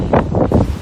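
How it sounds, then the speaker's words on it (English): Strong gusts of Storm Dennis buffet the microphone on an outdoor walk near small ponies, loud rumbling roars rising and falling in quick bursts. "Ooh, windy."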